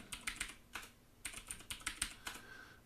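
Quick bursts of keystrokes on a computer keyboard during a terminal login, close and fairly quiet, with irregular clusters of clicks and brief pauses between them.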